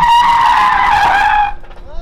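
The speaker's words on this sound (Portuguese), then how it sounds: "Depois de um mês, ele já tá fazendo drift" A car drifting in the Free Fire video game lets out a loud, sustained tire squeal that holds for about a second and a half and then cuts off abruptly, with faint game sounds trailing after.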